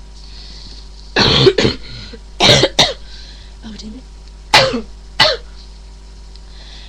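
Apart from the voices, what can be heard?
coughing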